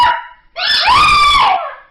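Staffy, a Staffordshire bull terrier about seven or eight years old, lets out a loud, close, drawn-out howling bark after a brief yelp, rising and then falling in pitch.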